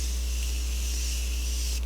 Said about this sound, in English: I'm going to grab my Morphe spray because I like the aerosol